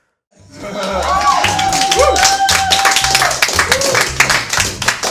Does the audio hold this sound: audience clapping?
yes